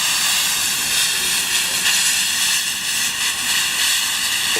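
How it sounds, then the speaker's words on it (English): Gas jets from an open nozzle in a loud, steady, broadband hiss that roars continuously without pause, close and strong throughout. "if we open this nozzle and try to light it up, then you can see the amazing gas that comes shooting out of there"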